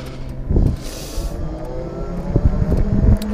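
A 3000W 48V Bomber electric bike ridden at full throttle, giving a steady motor whine and rumble with wind buffeting and a few louder bumps.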